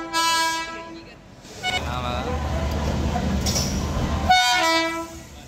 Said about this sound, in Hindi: इस ट्रेन का नाम है डोरंटो एक्सप्रेस